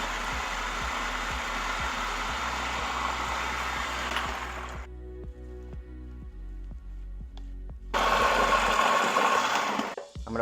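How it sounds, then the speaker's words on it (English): A food processor blends frozen pineapple with a loud, steady motor roar and a regular rhythmic thumping of chunks. It drops to a quieter whir with ticking for a few seconds, then surges back to full power. "2 cups of frozen pineapple, food processor, and we're gonna blend that"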